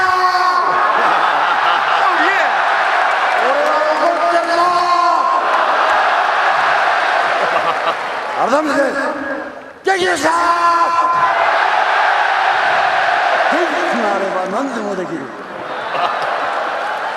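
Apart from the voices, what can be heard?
arena crowd cheering for Inoki at Pride Shockwave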